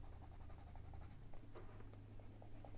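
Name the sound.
colored pencil heavily burnishing pigment onto paper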